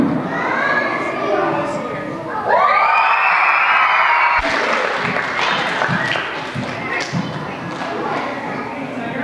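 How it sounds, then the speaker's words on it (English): A school assembly crowd of schoolchildren doing a screaming wave, loud massed shrieking that swells and rolls on for several seconds with thuds and cheering mixed in. "We are going to do the screaming wave."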